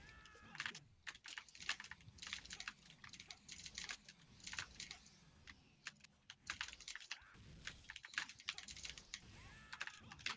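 Fast bursts of keyboard typing during a gaming session, with keys clattering in quick irregular runs, close to the mic and fairly quiet.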